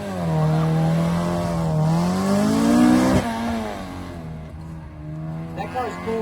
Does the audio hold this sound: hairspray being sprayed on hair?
no